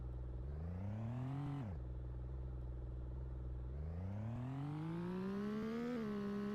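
A race car in a racing video game drives back toward the pits, its engine revving upward in pitch, dropping sharply, then climbing again in a smooth whine over a steady low hum.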